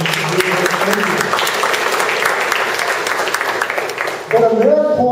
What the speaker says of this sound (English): How about a round of applause for Laura?